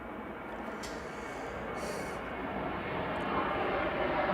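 Ryanair jet departing Manchester Airport for Madrid, a distant broadband engine roar building gradually in loudness, with no voices.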